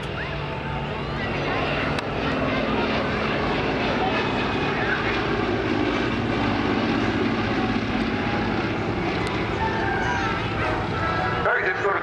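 A slow, stable propeller aircraft flying at an air show in Southport, its engine drone loud and steady throughout, with a commentator talking over it.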